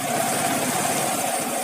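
A Yamaha Vixion motorcycle engine running steadily while gears are shifted, a close, even mid-pitched idle hum with light vibration and no talking.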